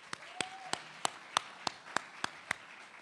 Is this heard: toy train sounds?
no